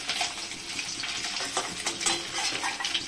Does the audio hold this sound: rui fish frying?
yes